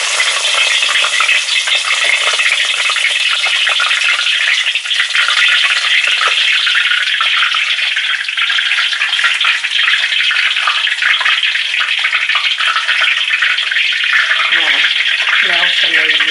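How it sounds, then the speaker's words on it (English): Meat and rosemary fry in hot oil for shito, a Ghanaian chilli oil, giving a dense, loud, continuous sizzle that holds steady throughout, with faint stirring near the end. "I'm gonna fry my meat first, but the smell of rosemary is always amazing, so I'm frying that first in the oil"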